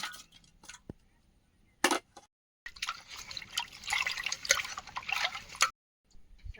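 Vegetables being washed by hand in water, with splashes, drips and trickling in irregular bursts separated by short silences, close and fairly quiet.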